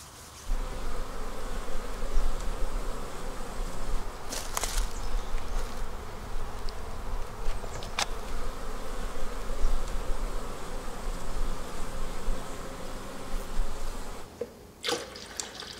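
Honeybees buzzing around a beehive on a freezing 25°F winter day, a steady close drone of many wings, with a few brief louder passes and a faint trickle of water underneath.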